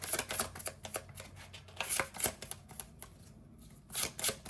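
Tarot cards shuffled by hand, giving quiet, close riffling and snapping bursts in an irregular rhythm with brief pauses between them, heard alone and faint.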